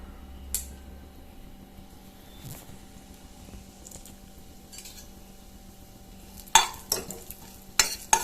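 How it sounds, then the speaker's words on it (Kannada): Cumin and fennel seeds frying in oil in a pan, faint soft sizzling with occasional stirring scrapes and sharper metallic clinks of a spoon near the end. "ಆಮೇಲೆ 1 ಚಮಚದಷ್ಟು ಸೋಂಪು ಕಾಳು ಸೇರಿಸ್ತಾ ಇದ್ದೇನೆ."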